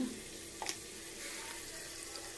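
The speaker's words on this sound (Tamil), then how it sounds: "இதில் கூட 2 வரமிளகாய், கொஞ்சம் கருவேப்பிலை சேர்த்து அதையும் நல்லா வதக்கிக்கலாம்." Two dried red chillies and curry leaves sautéing in a pan, a soft steady frying sizzle with one brief stir clack near the start, no talking.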